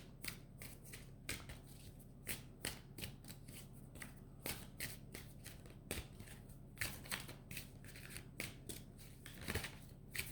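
Oversized tarot cards being shuffled by hand in quick, irregular riffling bursts, a steady papery flutter with sharp crisp snaps repeating throughout, close and moderately quiet with no talking.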